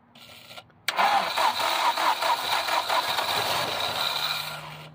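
An Audi A manual car's engine, long left parked, cranks briefly, catches and starts, then runs at a steady rough idle close by, with a faint tone at the end.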